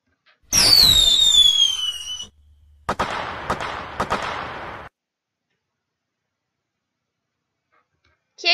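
A rising, descending whistle leads into a burst of crackling pops, then several sharp cracks before silence: computer-simulated 3D fireworks.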